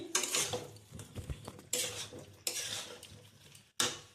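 Chicken being stirred in a kadai cooked without oil, with a utensil scraping and clattering against the pan in repeated bursts, close and fairly loud, with brief pauses between strokes and no talk.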